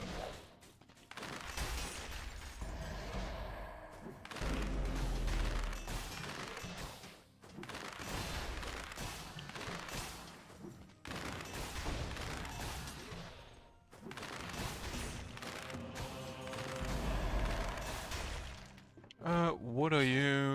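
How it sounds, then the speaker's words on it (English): Bombardier bombing explosions in Dead Cells, a run of dense, crashing blasts in repeated bursts separated by brief pauses, loud and busy, with game sounds layered throughout. "Trigger the bombardier."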